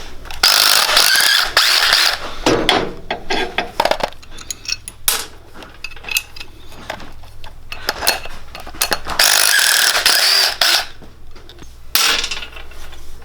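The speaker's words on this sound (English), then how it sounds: "So we just need to pull these nuts and bolts off now." Metric nuts and bolts come off a Coleman DT200 mini trike hub under a hand ratchet: loud, close bursts of rapid clicking pawl, separated by quieter pauses with faint metallic handling, the rattling strongest at the start and again near the end.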